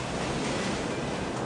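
Ocean waves wash over and swamp a new car, a steady loud rush of surf and foam that fills the whole moment without letup.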